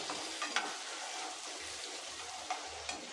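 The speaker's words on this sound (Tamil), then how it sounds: "ஓரளவுக்கு நல்லா வதங்கி வரட்டும்." Steady sizzling of onions frying in a pan, with a few soft stirring scrapes and clinks over the continuous hiss.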